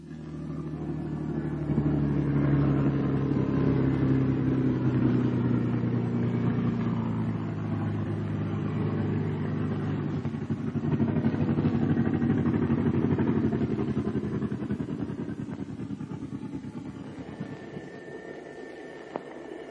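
A Bell P-39 Airacobra fighter's piston engine runs during taxi and rev-up, a loud, rough droning roar that swells and eases over about twenty seconds, heard alone.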